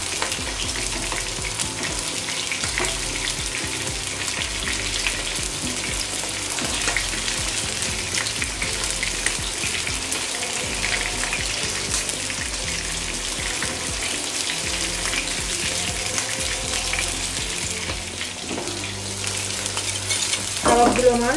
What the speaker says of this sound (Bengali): কাবাবগুলো আমার ভাজা হয়ে গিয়েছে।